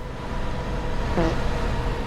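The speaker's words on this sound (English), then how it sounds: "I can hear another bus as well." A bus engine in the TruckersMP truck driving game hums steadily at moderate loudness, a continuous low drone blending with road noise.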